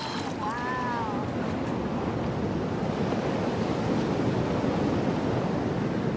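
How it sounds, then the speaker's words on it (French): Ocean surf at Cloudbreak, Fiji, heard as a continuous loud wash of breaking waves with wind noise on the microphone and a brief high bird-like cry near the start. "Ces vagues ont voyagé pendant des milliers de kilomètres depuis les tempêtes de l'Antarctique."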